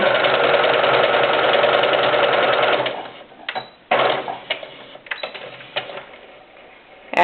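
A sewing machine stitching a quarter-inch French seam runs in a steady, fast whir for about three seconds, then stops and gives a few short bursts and clicks as the fabric is adjusted.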